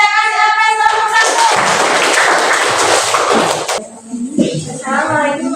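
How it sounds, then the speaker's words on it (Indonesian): Audience applause for a presenting group at a university performance-test session at UIN Alauddin Makassar: a dense burst of clapping that lasts about three seconds, then fades as voices resume. "Kita kasih aplaus kelompok"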